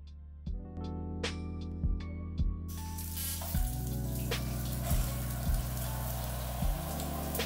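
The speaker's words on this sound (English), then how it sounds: "Then yeah, I'm gonna take a shower." Water runs steadily in a shower, a constant hiss joined partway through by a louder spray, with occasional low thuds and knocks in the background.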